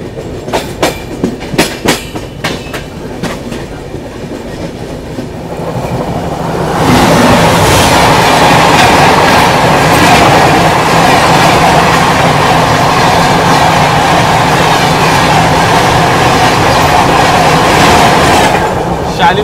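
A train pulls out of Kharagpur station in India: light clicks and platform noise at first, then a loud, steady rolling rumble with clickety-clack that builds and holds close by.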